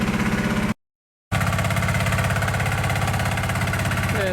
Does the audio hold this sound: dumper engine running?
yes